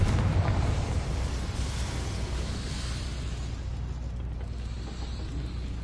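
The Confringo blasting spell explodes in Hogwarts Legacy on PS5, a low, rumbling blast that starts strongest and trails off into a sustained muffled roar, with no voices over it.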